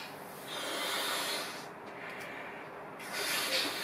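Breath pushes into a balloon in long, breathy hissing puffs, close and fairly loud, with a brief pause between inflations and a second puff near the end.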